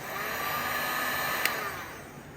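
A heat gun blows steadily and close by while warming vinyl wrap on a Tesla rear door, a continuous whooshing whine with a faint click partway through and no talking.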